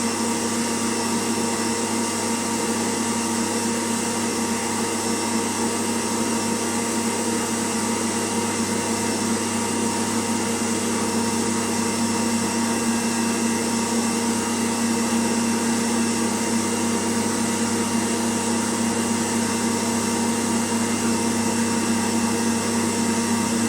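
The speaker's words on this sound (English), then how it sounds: "Gently adding the sugar, whisking on full speed." An electric whisk runs at full speed, beating egg whites with sugar for a chocolate soufflé. It gives a loud, steady motor whine with a constant hum that holds unbroken throughout, with no talking.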